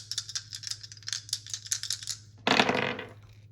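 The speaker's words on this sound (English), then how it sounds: "we're gonna roll my zodiac dice." Zodiac dice rattle in a hand as a string of quick light clicks over a low steady hum, then tumble and clatter across a surface for about a second, close and fairly loud, with no voices.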